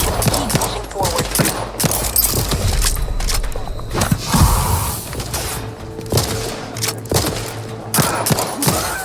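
Rapid bursts of automatic gunfire and heavy thuds erupt in a hectic firefight from The Outer Worlds 2, loud and close, with volleys recurring across the stretch and a short booming impact in the middle.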